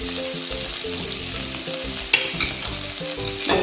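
Mustard seeds, cumin, curry leaves, onion, garlic and potato sautéing in hot oil, a dense continuous crackling sizzle with soft stirring scrapes, close and loud with no voices.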